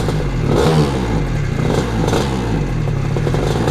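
A car at a Sturgate Straight sprint event revs hard and launches off the line. The engine is loud and close, with a surging roar and a brief rising burst, followed by gritty mechanical clatter.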